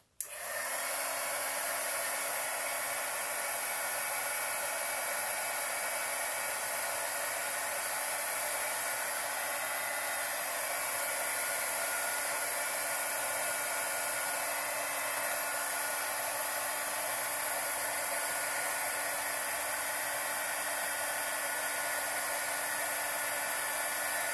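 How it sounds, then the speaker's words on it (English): A handheld heat embossing tool blows hot air over ink-pad stamped paper, a loud, steady, unbroken whoosh close to the microphone that starts abruptly and runs alone for the whole stretch. "I'm going to take my heat embossing tool."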